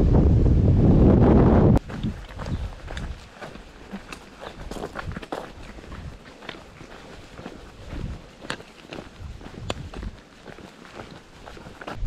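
Wind and rain on the Heysen Trail between Tapanappa and Balquhidder, opening with a loud burst of wind buffeting the microphone, then steady gusty rustle with footsteps crunching along the trail.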